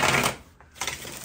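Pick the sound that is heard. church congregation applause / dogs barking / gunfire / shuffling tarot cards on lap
shuffling tarot cards on lap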